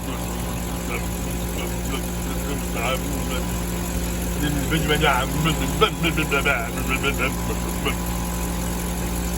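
A van engine idles with a steady low rumble and hum throughout, with someone talking over it near the middle.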